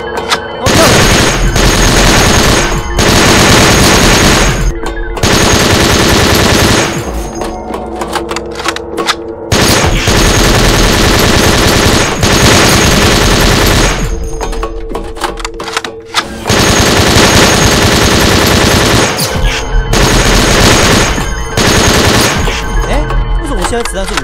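Rapid machine-gun fire from a shooter video game, loud sustained bursts that rattle on in long stretches with brief gaps between them.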